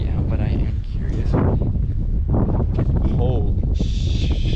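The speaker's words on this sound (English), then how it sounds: "It's getting a little windy out" Wind buffets the microphone at a scenic overlook on a national park road trip, a steady loud roar beneath excited talking.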